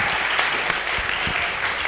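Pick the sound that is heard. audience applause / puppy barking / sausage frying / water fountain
audience applause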